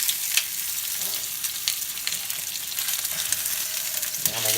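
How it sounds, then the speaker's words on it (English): Sausages frying in a very hot pan of coconut oil, giving a loud, steady, crackling sizzle that runs unbroken from start to finish with scattered sharper pops. "So let's throw them sausages in there."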